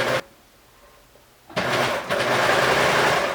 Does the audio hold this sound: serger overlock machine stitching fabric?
yes